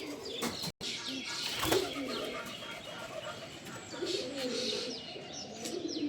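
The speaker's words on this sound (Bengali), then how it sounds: "কবুতরের ডাক" Pigeons kept naturally at a small farm cooing in soft, low calls, with light chirps and a brief flutter of wings, fairly faint and close, set against quiet background ambience.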